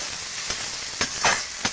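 Pangas fish frying with chopped tomato in a pan, a steady close sizzle broken by a few short scraping stirs of a spatula.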